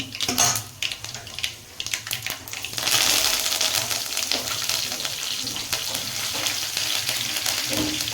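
Curry leaves crackle and sizzle in hot oil in a pan while shavige bath is cooked, a loud close frying hiss with sharp spattering pops that swells after the leaves drop in.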